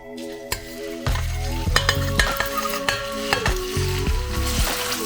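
A burger patty hits hot grapeseed oil with a burst of loud, close sizzling, then keeps frying steadily while a spatula scrapes and knocks against the pan in irregular bursts.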